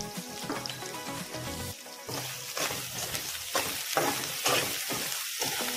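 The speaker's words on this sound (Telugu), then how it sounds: "కొంచెం పసుపు వేసుకొని వేయించుకోవాలి" Food frying in a pan with a pinch of turmeric, an even crackling sizzle broken by repeated spatula stirs and scrapes, close and without voices.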